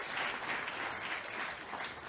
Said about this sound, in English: can I give a round of applause, please?